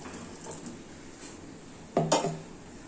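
Ground radish batter being scraped from a mixer jar into a cooking pot, then the jar rinsed with a little water: a faint kitchen hush broken by a short double clank of metal vessels near the end.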